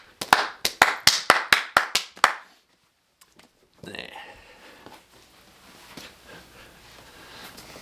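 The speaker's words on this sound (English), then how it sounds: "Let's give him a public course golf clap" A slow, deliberate golf clap from a few hands during a casual public-course golf podcast, about ten evenly spaced, crisp claps close to the microphone, followed by a pause and then low murmuring and room noise.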